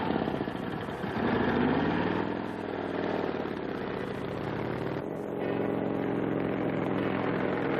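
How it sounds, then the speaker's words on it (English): A motorcycle engine approaching along a camouflaged road, a steady buzzing drone with shifting pitch that holds on, loud and close, with a brief dip partway through. "Sounds like a motorcycle coming."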